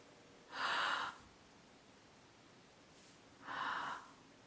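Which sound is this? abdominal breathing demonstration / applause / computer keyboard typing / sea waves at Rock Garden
abdominal breathing demonstration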